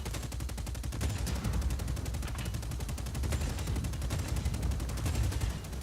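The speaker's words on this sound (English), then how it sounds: "you can shoot your rockets and you can shoot your minigun" Dense, continuous rapid-fire minigun bursts mixed with heavy booms from tank rockets in the video game Just Cause 4, a loud steady barrage running throughout with no talk.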